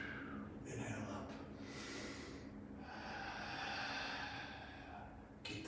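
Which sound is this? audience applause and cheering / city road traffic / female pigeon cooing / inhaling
inhaling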